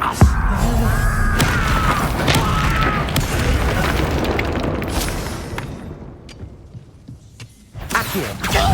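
A fiery spell blast roars out in a Hogwarts Legacy game fight, a loud sustained whooshing burst that slowly fades and thins over several seconds, with a few sharp pops near the end.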